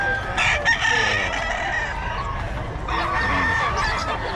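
Boss Eric's fighting cock crows loudly and close by in one long, strained cock-a-doodle-doo, with clucking fowl and background noise around it.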